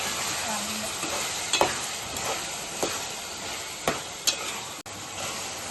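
Chopped drumstick pieces cook in a pan with softened tomato and onion, making a steady close sizzle broken by several sharp scrapes and clacks of a spoon stirring against the pan.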